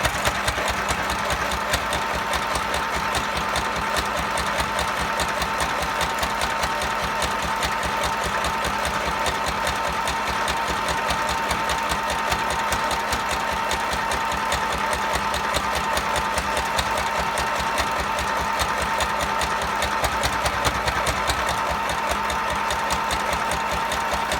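A sewing machine runs steadily throughout, stitching along the edge of a junk journal book cover with a continuous close, loud mechanical whir and rapid needle chatter, with no talking.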